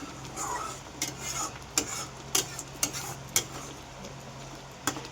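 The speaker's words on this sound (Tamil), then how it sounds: "கொதித்து எண்ணெய் நல்லா மேலே பிரிஞ்சு வரட்டும்." A pan of masala simmering with a steady bubbling hiss, broken by several sharp clinks of a spoon stirring against the metal.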